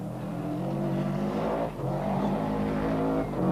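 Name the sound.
rally car approaching at high speed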